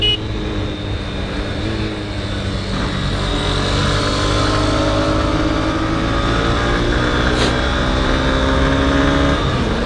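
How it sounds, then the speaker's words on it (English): A Honda Hornet 2.0 motorcycle engine drones steadily while riding on the road, its tone rising gradually over wind noise, with no talking. "Engine sound is really nice, and it's giving around 39 kilometers per liter."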